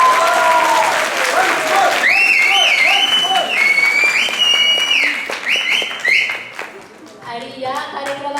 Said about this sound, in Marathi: मुलांसाठी पुन्हा एकदा जोरदार टाळ्या